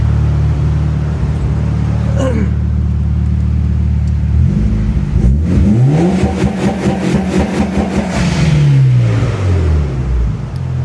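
Mitsubishi Lancer Evolution 8 engine idling steadily, then revved twice, rising and falling in pitch as the rpm climbs and drops, loud and close with no talking.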